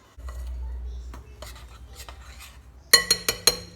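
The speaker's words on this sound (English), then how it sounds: "I go ahead and stir this together just to mix it" Spoon scraping and clinking in a bowl while stirring a box of confectioner's sugar mixture, soft rasping strokes followed by a few sharp clinks near the end, close and fairly quiet.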